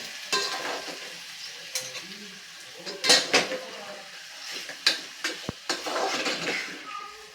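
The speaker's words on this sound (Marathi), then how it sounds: "गूळ घालून घेतल्यानंतर परत हलवून घ्यायचं आहे" A spoon stirring sweet potato slices with jaggery in a pan over steady sizzling, with repeated scraping and clinking strokes of the utensil against the metal, heard up close.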